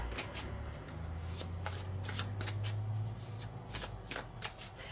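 Tarot cards being shuffled for a reading, a steady run of crisp riffling flutters repeating close by with no talking.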